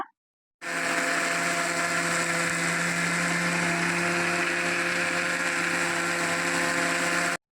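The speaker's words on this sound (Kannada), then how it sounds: "ಈಗ ಇದನ್ನ ನೀರು ಹಾಕ್ಬಿಟ್ಟು ನುಣ್ಣಗೆ ರುಬ್ಕೊಂಬರೋಣ" Electric mixer grinder blending chopped ripe tomatoes and spice masala with water for egg curry, a loud steady whirring drone that starts abruptly after a brief silence and runs continuously to the end.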